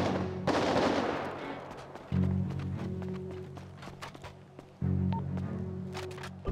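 Bursts of gunfire ring out amid a busy GTA roleplay game soundscape, with sharp cracks and rumbling low booms recurring every couple of seconds.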